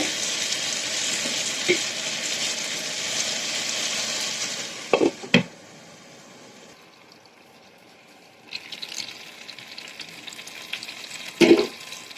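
Potatoes and okra frying in oil crackle in a steady sizzle that drops off midway, with sharp clanks of a spoon or lid and a louder stir of hissing near the end; no talking.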